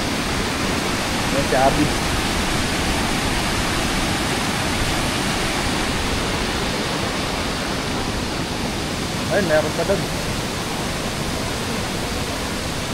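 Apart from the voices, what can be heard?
Pinamun-an Falls waterfall, Nagcarlan Laguna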